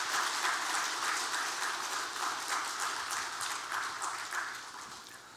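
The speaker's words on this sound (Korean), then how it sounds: "박수 한번 해주시죠" A church congregation applauds at a New Year's worship service, a soft, steady wash of many hands clapping throughout, fairly distant and easing slightly toward the end.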